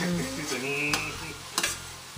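Green onions sizzle and get stirred in a pot for shrimp creole, a close steady hiss with a few sharp spoon scrapes against the pot and no talk.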